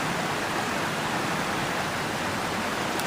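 A river flows beside a campsite in a national forest, making a steady, loud broadband rush of water that stays constant from start to finish. There is no speech.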